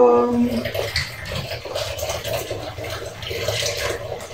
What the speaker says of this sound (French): Je laisse pas couler l'eau pour le plaisir, c'est juste que j'attends qu'elle soit chaude.